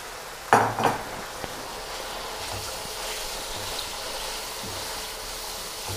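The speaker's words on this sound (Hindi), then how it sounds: "2 से 3 मिनट के लिए चिकन को लहसुन के अंदर फ्राई करना है।" Boneless chicken strips frying with garlic in a pan, opening with two sharp metallic utensil clanks against the pan, then a soft, steady sizzle that continues underneath.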